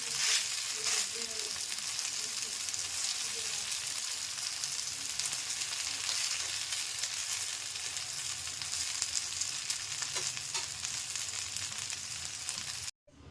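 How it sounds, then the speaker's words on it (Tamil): Adai, a thick vegetable lentil batter, sizzles and fries steadily in oil on a hot pan, a continuous close crackling hiss with small pops throughout and no talking. "இதனால கொஞ்சம் ஆயில் ஊற்றணும். இதுவும் லைட்டாக இப்படி சுட்டு விடுங்க."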